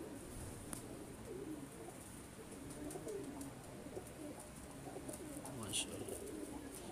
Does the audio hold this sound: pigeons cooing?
yes